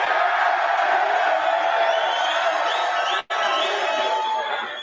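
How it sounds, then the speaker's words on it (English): Packed room at a Jake Paul versus Mike Tyson press conference, a loud continuous roar of cheering and whooping voices, with a brief sharp dropout near the end before the din resumes. "That crowd is wild."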